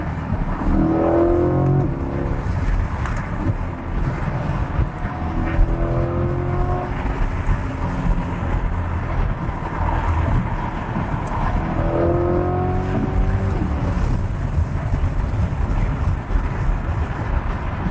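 A Corvette C8 Stingray's engine on a track roars and climbs through repeated revs and upshifts, heard from inside with a constant rumble beneath the rising engine notes.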